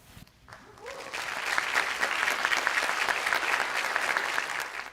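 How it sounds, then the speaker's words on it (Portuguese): Audience applause at a live talk event, starting faintly and building within a second into steady, vigorous clapping from a sizeable crowd, heard alone. "O público aplaude com vigor a fala de Lenine."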